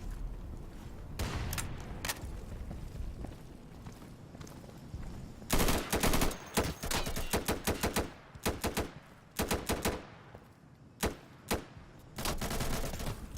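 Automatic gunfire in the tactical shooter Insurgency, with rapid bursts of shots, some long and sustained, others short and clipped, separated by brief pauses. The fire is loud and close, and no talk is heard.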